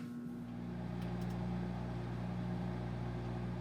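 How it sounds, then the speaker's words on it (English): Microwave oven heating a sandwich for 30 seconds, a faint, steady low hum with a constant tonal drone and no other sounds. "we want to cook our sandwich for 30 seconds"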